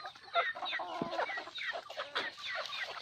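Hens at a backyard flock in Vietnam cluck busily at afternoon feeding time, a dense overlapping chatter of many birds close by with short sharp calls, no talking.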